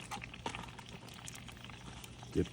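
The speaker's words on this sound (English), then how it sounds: "That butter is boiling now." Butter boils on a grill for a steak with rosemary, a soft bubbling, sizzling crackle with scattered pops, faint and close.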